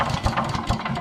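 A wood chipper's small engine, choke on and fitted with a new pull-start handle, sputters through a brief attempt to start, with a rough, uneven mechanical chugging that keeps pulsing without settling into a steady run.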